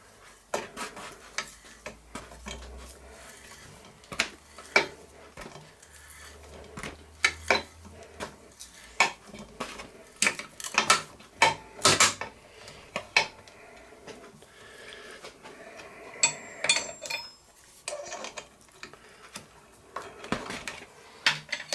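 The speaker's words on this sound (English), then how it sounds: "Cutting a nice sharp thread anyway. Just a case of working away at it until I get some nice deep threads in there." A plug tap works a thread into a metal stud, giving close, irregular metallic clicks, creaks and scrapes that come in uneven bursts over a long stretch, with no voices.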